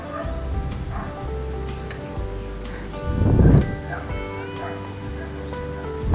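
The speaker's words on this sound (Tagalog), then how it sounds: "kaya may mga aso na tumatahol." Dogs barking near a fish pond during a nighttime crab-hunting outing, faint and distant, with a brief louder burst midway over a steady low background hum.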